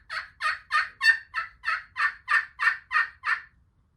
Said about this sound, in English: he gobbles